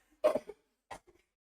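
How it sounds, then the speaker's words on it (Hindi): Two separate coughs, the first a harsh burst of several hacks, the second a shorter single cough followed by a faint throaty sound. "खांसी हो गई मेरे को तो"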